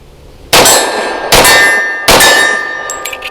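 Three loud, close shots from a Bersa B1911 pistol ring out about a second apart, each a sharp crack with a long metallic ring trailing off; a few faint clinks follow, with no talking.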